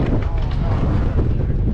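Strong blizzard wind roars steadily across the microphone outdoors during a scooter ride in the snow, a loud continuous buffeting rumble that stays up close and unbroken throughout.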